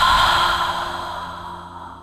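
A long, slow exhale released during a guided breathing exercise, a soft breathy rush that starts fuller and gradually fades over about two seconds, close and alone with no talk.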